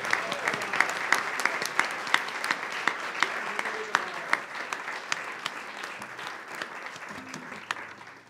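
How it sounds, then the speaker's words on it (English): Steady applause from a church congregation during a service, many hands clapping continuously at moderate volume for several seconds, with no talking. "Let's give them a round of applause."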